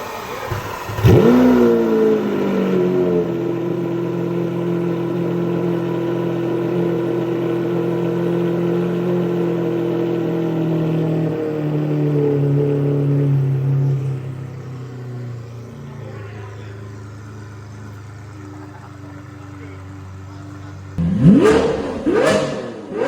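A Lamborghini Aventador SV engine revs hard with a roaring exhaust, then settles into a sustained droning idle before another sharp burst of revving at the end.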